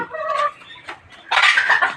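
Caged hens and a rooster making short clucking and squawking calls, close and fairly loud, with a brief pause between bursts.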